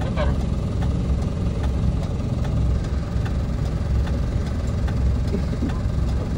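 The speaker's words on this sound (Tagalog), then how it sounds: "Yung motor nga hindi makausad." A motorcycle engine runs steadily at idle on a rough road in Camarines Sur, Philippines, a continuous low mechanical hum heard under people talking nearby.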